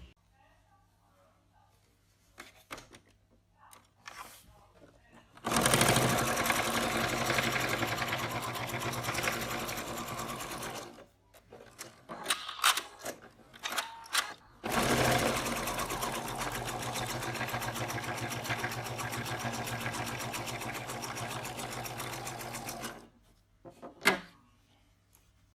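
A domestic sewing machine runs a basting stitch in two long bursts of rapid, even needle chatter, separated by pauses filled with fabric handling clicks and brief starts, with a sharp knock at the end.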